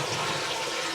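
A Japanese toilet flushes and its cistern refills through the small hand-washing basin on top, making a steady, close rush of running water.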